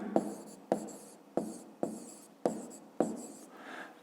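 Chalk or marker on a board sounds in six sharp strokes at a steady rhythm, each a short scratchy tap fading out, close and alone.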